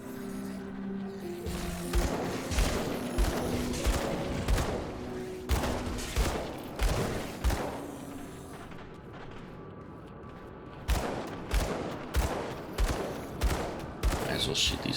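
Gunfire in the action role-playing game Grim Dawn, loud repeated shots in rhythmic volleys with short pauses between bursts, sharp and close throughout.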